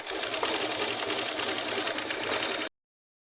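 A sewing machine runs steadily while stitching a petticoat, a loud continuous rapid whir with fast regular stitch pulses, alone with no talk, stopping abruptly.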